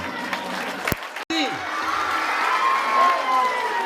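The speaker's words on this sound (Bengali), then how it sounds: "একবার জোরে হাততালি সবার জন্য।" An audience at a golden jubilee school event bursts into loud, sustained applause with cheering and children's shouts, preceded by a couple of sharp bangs and a brief cut in the sound.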